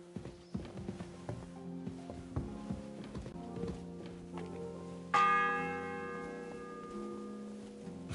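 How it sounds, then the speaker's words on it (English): A church bell strikes once with a loud, bright clang that rings on and slowly decays. Before it comes a stretch of irregular hoof-like clip-clop knocks and clunks, all fairly faint and distant. "The fourth bell."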